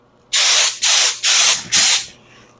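Paint hisses from a spray gun onto Honda CT70 motorcycle parts in four even, loud bursts close to the microphone, each about half a second long with short pauses between, followed by quiet.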